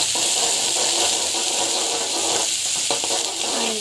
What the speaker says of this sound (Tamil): ஆனியன் நல்லா போட்டுக்கோங்க. போட்டுக்கிட்டு நல்லா வந்து ஃப்ரை ஆகணும்